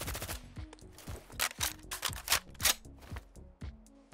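Dual-mag reload animation for a SIG MCX rifle in a Fallout 4 mod: a rapid sequence of close metallic clicks, clacks and sliding rattles from magazine and bolt handling, with no talk.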